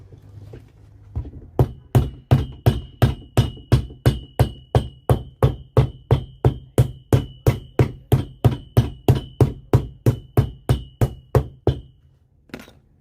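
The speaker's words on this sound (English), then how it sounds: "now we're going to be attaching the heel block" A new heel block is hammered onto a vintage FootJoy Classics golf shoe during a resole: about thirty sharp, evenly spaced blows in a steady rhythm, each with a faint metallic ring, close and loud, then a short pause and one last strike.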